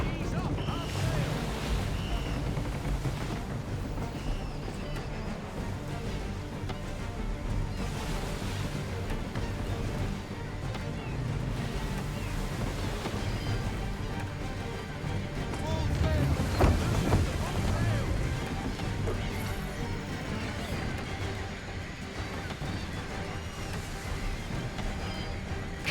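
A sailing ship in Assassin's Creed III pushes through waves, with steady wind rush and water wash all the way through and a brief louder surge partway in.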